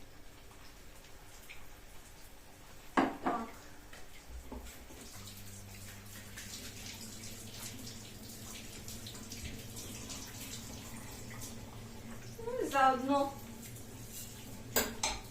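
Quiet running water and clinking dishes in a kitchen sink while veal cutlets fry, with occasional clatters of pots and a soft background hum; a voice speaks briefly.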